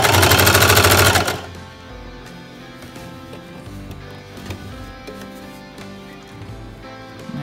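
A sewing machine straight-stitching a newborn baby sleeper, loud rapid mechanical clatter for about a second, then quieter handling clicks and soft rustling, close by.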